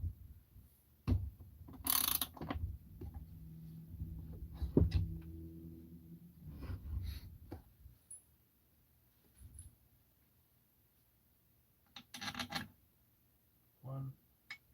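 A ratchet tightens case bolts during assembly of a Husqvarna 262xp chainsaw, giving scattered bursts of close mechanical clicking with quiet gaps between them.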